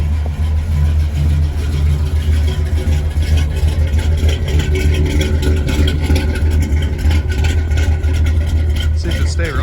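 A 1983 Chevy K20 truck engine running after a cold start on a snowy morning, a loud, steady low rumble throughout.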